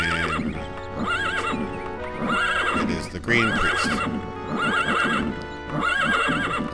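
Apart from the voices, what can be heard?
horse neighing and hooves in video game The Elder Scrolls II: Daggerfall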